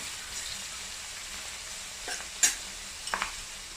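Garlic-ginger paste sizzling in a pan for a prawn idiyappam biriyani, a faint steady hiss with a few sharp stirring scrapes and clinks near the end.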